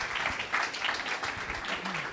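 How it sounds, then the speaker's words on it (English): Audience at a conference summit in Cannes claps for a panel on stage, a short, moderately quiet burst of scattered applause with faint low murmurs beneath. "please applause the panelists"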